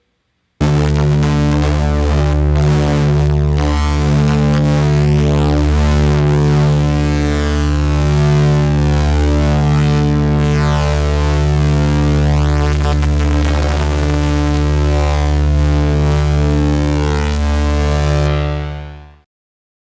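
Ableton Live synthesizer playing a sustained buzzy tone as an LFO sweeps the pulse width, the harmonics shifting and phasing continuously for nearly twenty seconds before cutting off.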